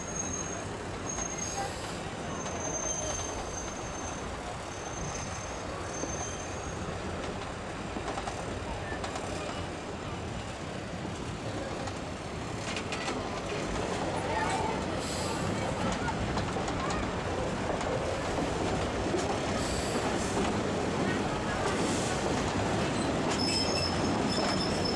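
A Georgetown Loop Railroad train rolls steadily along the rails with a continuous rumble, and high metallic wheel squeals come and go throughout.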